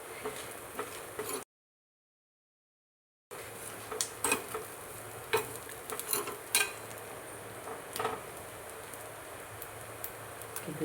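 Malenadu karadi soppu mundi fritters fry in oil over a medium flame, a continuous hiss with scattered crackles and pops, steady and close. The sound cuts out briefly near the start.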